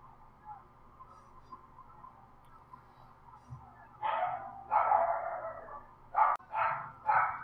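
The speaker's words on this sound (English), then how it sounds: "Dog's barking. Can't stop him from barking." Dog barking in a Madden 2017 football video game, low ambient noise at first, then several loud, close barks in short bursts toward the end.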